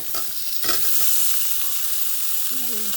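Potato and cauliflower pieces frying in a turmeric-tinted pan, giving a loud continuous sizzle and spatter with a few stirring knocks near the start; a faint voice surfaces briefly toward the end.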